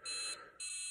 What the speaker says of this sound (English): Once you get all three, then it just beeps at you, and that's the end of the game.